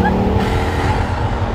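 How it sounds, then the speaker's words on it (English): Hypercar engine with four turbos spooling together, a steady loud mechanical drone with layered low rumble and a faint rising whistle near the start, close and continuous throughout. "Like four turbos all spooling together."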